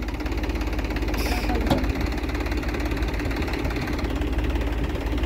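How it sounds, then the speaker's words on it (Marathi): A 45-10 tractor engine runs while lifting a trolley, giving a steady, close mid-pitched rumble with a faint knocking throb and a brief sharper clank partway through, with no talk. "इकडं आपला 45-10 ट्रॅक्टर आहे"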